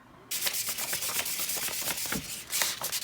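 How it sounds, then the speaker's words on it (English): A hand sander grinds paint off a BMX bike frame in rapid back-and-forth rasping strokes, close and fairly loud, starting abruptly and continuing steadily to the end. "Can you demonstrate a little bit how you got it off with the sander?"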